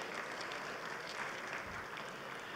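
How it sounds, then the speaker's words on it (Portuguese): An audience at an agricultural meeting applauds steadily, a dense even patter of many hands clapping, fairly faint and distant, with no talk over it. "Uma salva de palmas ao Paulo Mercadante Turci, de Jacareí."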